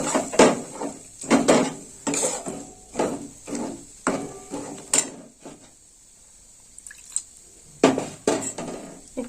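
A spatula stirs shredded cabbage frying with yogurt in a pan, producing a series of close scraping strokes and clinks against the metal, a short quiet pause, then more stirring.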